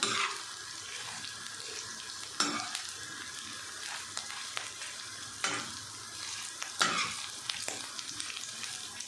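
Small chopped pieces of liver fry on a hot tawa griddle for a dhaba-style masala, a soft steady sizzle broken every few seconds by sharp scraping strokes of a spatula.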